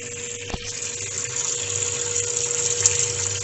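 Water pouring as a sheet through a rectangular notch in a laboratory flume, a steady low gush with pump hum, one brief knock near the start.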